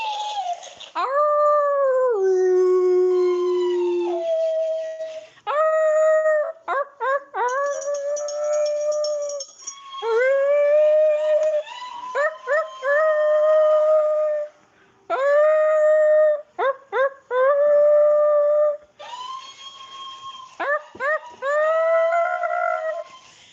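A person imitating a wolf, letting out a series of long, wavering howls with brief gaps between them, loud and close.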